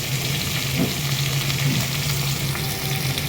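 Pumpkin frying with curry leaves and green chilli in a pan, a dense, steady sizzle heard close and loud, with a couple of soft stirring knocks and no speech.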